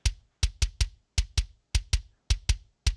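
A kick drum run through a tape saturation plugin in REAPER hits eleven times in an uneven pattern, each beat a sharp, punchy thump with a quick decay and silence between hits.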